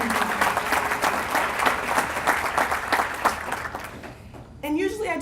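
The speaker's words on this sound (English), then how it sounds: "let's give ourselves a big round of applause" Inductees and guests at a 2014 running hall of fame ceremony give a big, dense round of applause that fills the room, fading out after about four seconds before a voice starts speaking.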